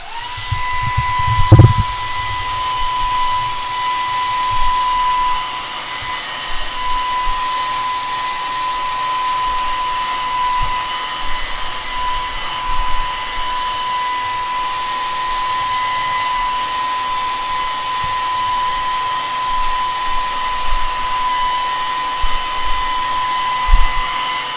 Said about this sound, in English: I'm going to use the hairdryer again for speed.